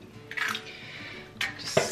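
Two eggs are cracked into a pan in a home kitchen, giving a couple of close, sharp taps and shell cracks. Light liquid drips and the clink of cookware follow, with no talking.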